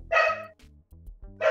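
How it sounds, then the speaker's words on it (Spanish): A dog gives two or three short, sharp barks close by, separated by brief gaps, with faint low background sound and no speech. "Ahí está el perro."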